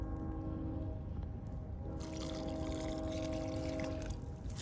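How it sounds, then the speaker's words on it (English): Water pours steadily into a cast iron pot of beef stew and broth over an outdoor campfire, a continuous close wash of liquid that swells louder after a couple of seconds, with no talking. "I'm gonna add more water."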